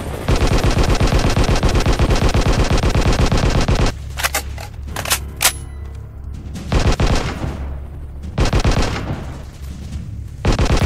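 Rapid automatic gunfire in an anti-terrorist squad shooting video game: a long loud burst of sustained machine-gun fire, then a pause and several shorter bursts and single shots, with another burst at the end.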